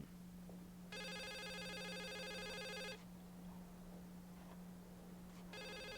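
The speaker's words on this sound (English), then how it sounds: "Where's that phone?" A telephone rings in the video game The Suicide of Rachel Foster, two long electronic trills separated by a pause, the second just starting, over a steady low hum.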